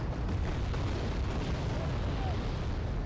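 Artillery fire in the strategy game Wargame AirLand Battle comes through as a steady, dense low rumble of distant booms and blasts that fills the whole stretch without clear pauses.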